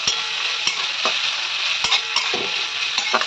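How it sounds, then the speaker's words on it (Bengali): Chopped carrot, capsicum, beans and onion stir-frying in an unsalted pan, a loud close sizzle broken by a few sharp spatula knocks and scrapes, no talking. "হালকা নাড়বো, জাস্ট একটু কাঁচা ভাবটা চলে যাবে"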